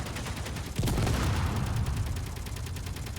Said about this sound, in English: Turrets, stop shooting!